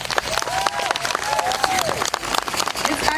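A crowd applauds and cheers for Aztec dancers at an outdoor festival stage, dense clapping continuing throughout with a few whoops and a tonal sliding sound over the crowd noise.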